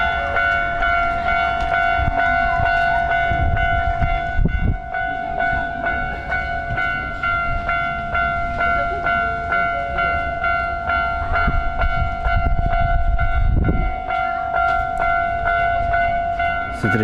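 A train rumbles past with sustained tonal hums and rattling, the low noise swelling and easing over a long stretch, no talk.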